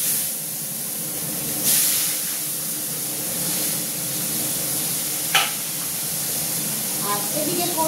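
Onion goes into a hot pan for cooking chicken, giving a steady broadband sizzle and hiss with a brief louder spray-like burst early on and a few faint stirring clinks near the end.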